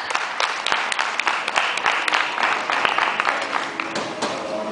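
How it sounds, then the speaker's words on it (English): A crowd applauds steadily throughout at a coffee barista latte-art pouring competition, dense overlapping claps with a few sharper individual claps standing out, fairly loud and continuous. "Another round of applause, everybody, for Philip."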